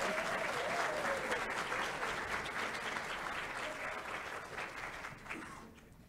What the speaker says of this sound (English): Now, can we give all of our graduates a round of applause?